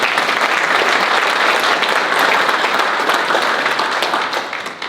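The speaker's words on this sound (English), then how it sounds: "One more round of applause." An audience at a Harford Leadership Academy graduation ceremony gives a dense, steady round of applause that stays loud for several seconds and eases off at the end.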